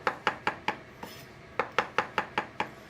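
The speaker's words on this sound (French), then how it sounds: "on va prendre 3 champignons qu'on va couper en quartier" A knife chops three mushrooms into quarters on a board, giving quick, crisp, evenly spaced thuds close up, two bursts of about five strokes each with a short pause between them and no talking.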